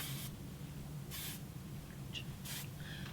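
Hairspray is sprayed in three short hissing bursts from an aerosol can, fairly faint against a steady low background hum.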